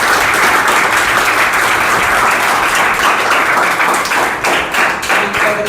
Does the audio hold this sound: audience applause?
yes